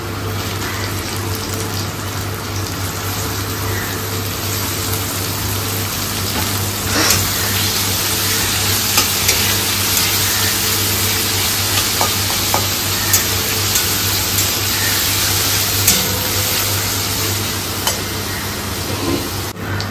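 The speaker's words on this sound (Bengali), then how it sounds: "পেঁয়াজ রসুনটা হালকা ভাজা হয়ে গেছে।" Chopped onion and garlic fry in a large wok, a steady close sizzle with occasional clicks and scrapes of stirring over a constant low hum, with no talking.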